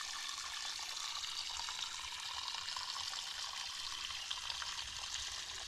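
Spring water pours steadily from a pipe built out of a spring at a natural area in the Oklahoma Ozarks, a constant close splashing rush without pause and no talking.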